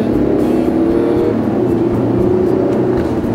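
A car with a 3700 cc V engine accelerating, loud close engine roar with a steady low rumble and rising tone throughout.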